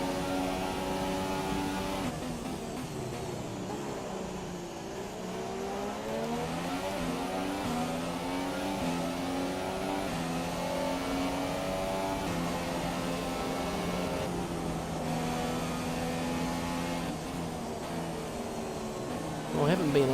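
Formula 1 car engine in the F1 2017 racing game at the China circuit, a steady high-revving whine with rising and falling gear-shift sweeps, loud and continuous, with a voice talking over it.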